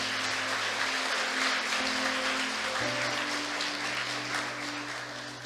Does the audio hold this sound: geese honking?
no